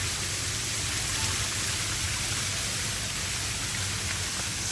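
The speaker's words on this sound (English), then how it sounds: "Another little waterfall." A small waterfall at a waterfall park gives a steady, close hiss of falling and splashing water, constant and even throughout with no voices.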